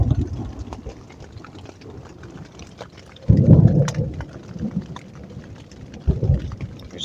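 A thunderstorm with steady rain at a campsite near Cataract Falls, Indiana, with rain pattering throughout and two deep rumbles of thunder rolling in close, the first louder and longer.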